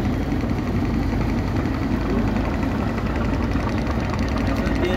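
A large river ferry's engine drones steadily with a heavy low rumble and constant vibration, close and loud throughout with no break.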